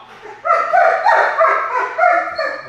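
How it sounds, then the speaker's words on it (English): Wolf dog yipping and whimpering close by, a run of high, whiny, strained barks in quick succession with little pause between them. "That's that wolf dog over there."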